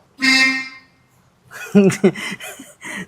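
A car horn gives one short, clear honk. After a brief pause, people talk nearby.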